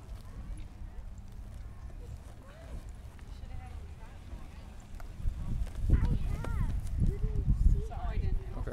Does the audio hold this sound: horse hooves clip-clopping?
yes